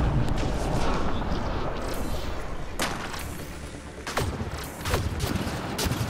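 Rapid gunfire in the Mass Effect Andromeda video game, a dense sustained barrage of shots and mechanical clatter with a few sharper cracks cutting through, loud and close, mixed with voices.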